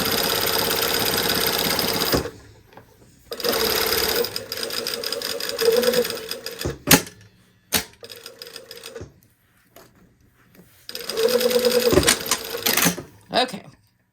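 A sewing machine stitches elastic-back shorts fitted with an invisible zipper, running in loud buzzing bursts with short back-stitch passes and pauses between them, fairly close by.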